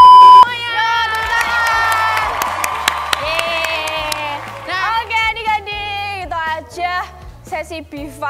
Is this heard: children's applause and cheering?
yes